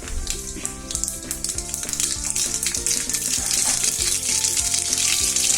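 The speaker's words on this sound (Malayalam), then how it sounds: "നമ്മുടെ എണ്ണ ചൂടായി. അതിലേക്ക് നമുക്ക് കടുകിട്ട് കൊടുക്കാം." Mustard seeds dropped into hot oil on a gas stove, a loud dense crackling sizzle that builds steadily, with a tonal musical layer running underneath throughout and no talking.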